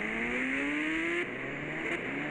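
A motorbike engine in the mobile game Indian Bike Driving 3D revs steadily upward in pitch, drops back abruptly midway, then climbs again, loud and continuous with no voices.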